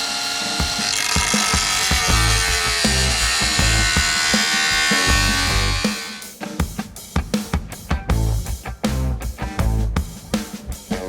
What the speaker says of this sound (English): Bauer right angle grinder, not a heavy duty tool at all, but for this particular project I would rather the grinder stall out than use the Milwaukee one